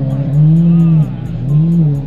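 A Lamborghini Aventador engine is revved twice in quick succession, each a loud, close, rising and falling snarl with a strong tonal roar that dips briefly between the two blips.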